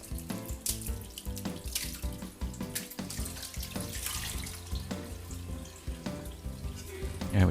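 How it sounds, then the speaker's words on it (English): Whey and curds for farmhouse cheddar poured into a cheesecloth-lined colander, a steady splashing, trickling stream of liquid with uneven gushes throughout, no one talking. "all we're doing is pouring that into a cheesecloth lined colander"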